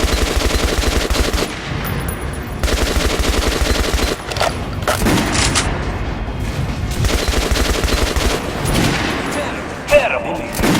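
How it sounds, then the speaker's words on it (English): Gunshots ring out at a shooting range in the video game Metro: Last Light, with heavy rapid-fire bursts and single loud reports over a dense game soundtrack and some talk. "Look for sparks to know when you are shooting an armored target."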